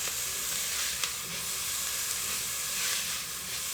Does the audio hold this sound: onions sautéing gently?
yes